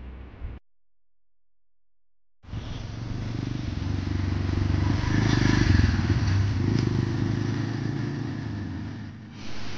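A motorcycle climbing a ghat road in low gear, its engine droning steadily and close. It cuts out briefly, then returns and holds a rough, even note.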